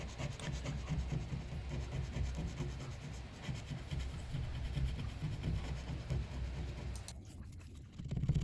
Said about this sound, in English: trying to gingerly scrape off the adhesive pieces without damaging the framework and trim work